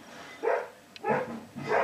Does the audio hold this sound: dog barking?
yes